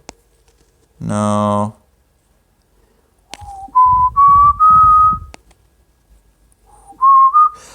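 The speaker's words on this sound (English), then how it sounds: "the other thing is with the tin whistle" A tin whistle plays a short melody: clear, rising sustained notes in one phrase, a pause, then a brief second phrase. A louder buzzy tone sounds earlier, and faint clicks come and go.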